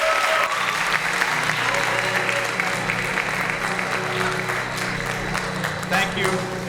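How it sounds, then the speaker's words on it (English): An audience at a live interview show breaks into sustained, dense applause, clapping steadily and loudly for several seconds with a few voices mixed in. "Let's give him a big round of applause."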